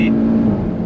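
Stock Audi RS3 hatchback accelerating hard down a race track straight, a loud, steady engine drone holding one pitch close by for under a second with no break.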